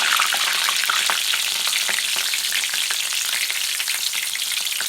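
Fresh green chilies, five or six of them, fry in hot oil for a sweet-and-spicy star fruit (kordoi) pickle, giving a steady, dense, loud crackling sizzle that runs unbroken throughout with no voices.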